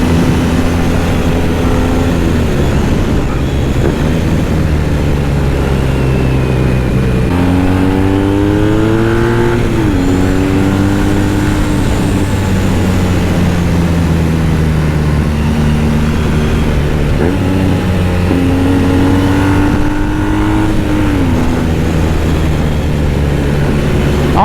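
A 2017 cafe racer motorcycle rides along valley roads, its engine droning loudly and steadily close by, with pitch rising and falling through several gear changes as it accelerates repeatedly.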